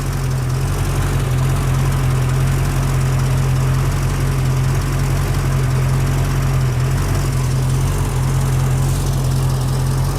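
A V8 engine in a 1989 Chevrolet S10 pickup idles steadily with a low, constant rumble and hum, close and loud, with no revving and no voices throughout.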